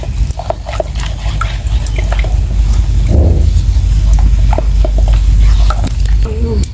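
Flour mixed with cold water is stirred for porridge in an African village kitchen, making close, wet scraping and swishing sounds in an irregular rhythm, with faint background noise and brief voices.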